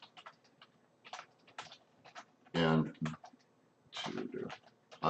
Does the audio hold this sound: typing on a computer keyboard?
yes